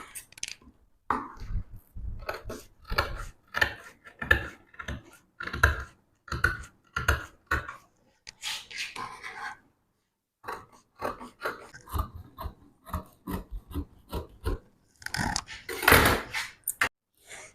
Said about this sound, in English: You now cut the hemline of the outer edge of the outer circle.